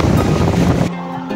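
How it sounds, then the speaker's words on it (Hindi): Heavy torrential rain pouring down outdoors in Jeddah, Saudi Arabia, a loud dense roar of falling water that runs steadily, then drops abruptly to a quieter, thinner hiss near the end. "इस टाइम बहुत तेज बारिश है, मौसलाधार बारिश हो रही है बाहर"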